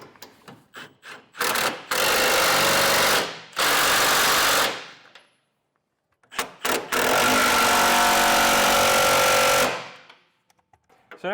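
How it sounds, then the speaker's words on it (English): Repeated ratcheting bursts of a socket wrench tightening bolts on a plate mounted to the frame of a 2015 Chevrolet truck, using a 15/16 socket; two long, loud runs with short clicks between, close by and without talk. "now we can tighten the plate to our frame with our 15/16 socket"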